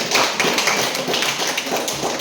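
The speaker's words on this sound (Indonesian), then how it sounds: "tepuk tangan untuk kelompok Whiteboard." A small group in a classroom claps together, a brisk and fairly loud burst of hand claps with no voices.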